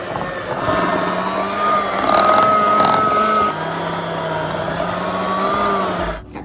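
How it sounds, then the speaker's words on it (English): Electric hand mixer beating cookie dough made with flour: a steady, loud motor whine with a faint pitch wobble runs continuously for several seconds, then cuts off abruptly. "now I'm just gonna go in with this mixer"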